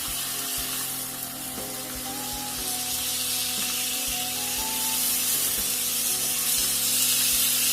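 Chicken pepper steak fries in a little oil in a pan, producing a close, continuous bright sizzle punctuated by a few dull knocks as the pieces are turned, with no talking.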